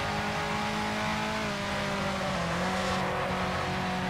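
Engine of a 1955 Ferrari Tipo 625 Grand Prix race car in a racing video game at Zandvoort, a loud continuous roar that shifts in pitch as another car closes from behind, with no talking.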